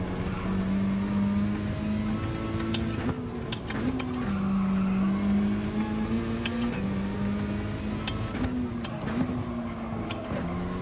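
Race car tyres squeal at the Nürburgring in a racing video game, a sustained high tyre whine that rises and falls over the steady engine drone, close and continuous.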